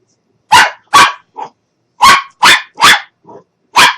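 A dog indoors barks loudly and close, in clusters of two and three sharp barks with softer yips and short gaps between.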